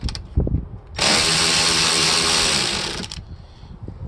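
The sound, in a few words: power tool loosening van seat front bolts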